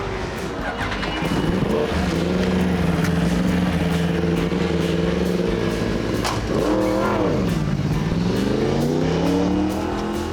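A racing motorcycle on a run around a track, a loud close engine whine rising and falling through shifts, with a sharp dip and recovery partway through as it brakes and accelerates again.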